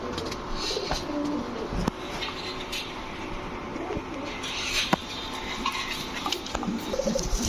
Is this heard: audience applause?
no